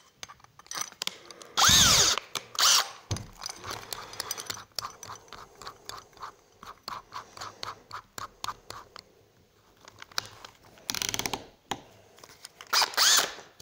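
A Teccpo 18V cordless drill screwdriver fitted with a bit bores into material in loud, whining bursts, with scraping and rattling between runs and a final high-pitched surge near the end.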